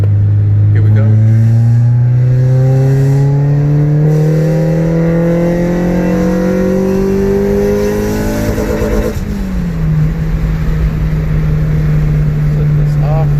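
Tuned car pulling hard in 3rd gear from 3000 RPM, loud engine note rising steadily for about nine seconds before the revs drop sharply with a shift and the engine settles into a lower drone.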